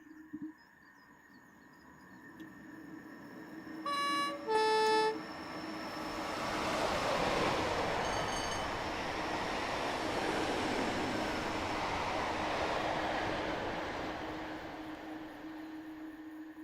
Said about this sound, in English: I forgot Just Trains added rail singing to this route.